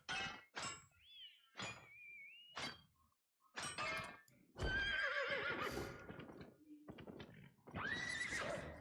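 A horse in a video game whinnies several times among sharp thunks, clip-clop hoofbeats and breaking sounds, the calls loud and close in a busy run of separate game effects.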